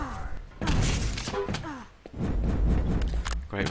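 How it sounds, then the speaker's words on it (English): A rocket explosion in a Quake competitive match, sharp thudding blasts amid rapid arena combat noise, with a commentator talking over the action. "Great rocket by Rav there."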